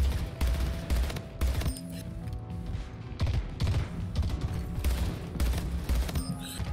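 Rapid bursts of gunfire from accurate arena weapons in the video game Splitgate, sharp repeated shots crackling close and loud throughout with short gaps between volleys, no talking.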